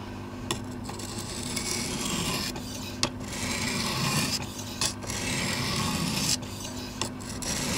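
Hand filing reshapes the bevel angle of a machete blade: rough, coarse rasping strokes repeat in long, steady passes with brief pauses and small clinks, close and loud with no talk.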